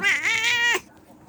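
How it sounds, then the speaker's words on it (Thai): A cat gives a single drawn-out meow, clear and close, lasting under a second before the sound drops away to quiet. "อุ้ยน้องคือแมวก็ได้"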